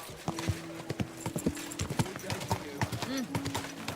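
Horse hooves clip-clop in a steady, close gait in the video game Kingdom Come Deliverance 2, with a brief whinny and a voice talking over the hoofbeats.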